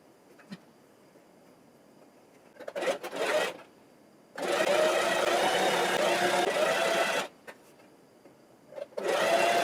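A sewing machine stitches an XL scrunchie in several bursts, one long steady run in the middle and shorter runs before and after, heard close with quiet pauses between.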